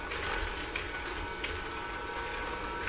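An electric hand mixer beats eggs and wet ingredients for gingerbread blondie dough, giving a steady, even whir with faint rattling that runs the whole time, with no voices.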